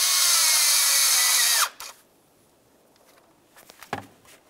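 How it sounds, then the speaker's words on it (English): A power tool tightens a 10 mm intake manifold mounting bolt on a 2005-2010 Dodge Dakota, a loud, close, high whirring spin that stops abruptly, followed by faint clicks and handling noises. "We'll put in our 10 millimeter headed mounting bolt and snug that up."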